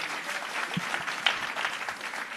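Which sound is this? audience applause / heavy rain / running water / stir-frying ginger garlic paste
audience applause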